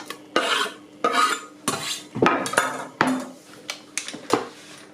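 Banana loaf batter with chocolate chunks is stirred in a bowl, with a run of uneven scraping and clinking strokes, about seven or eight distinct knocks of the utensil against the bowl, close and moderately loud.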